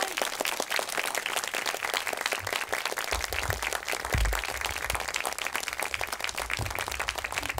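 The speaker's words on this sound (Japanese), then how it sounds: "大きな拍手でお迎えください" Audience applause at a film screening Q&A with a director, a dense steady patter of many hands clapping throughout, moderately loud and continuous with some low rumble underneath.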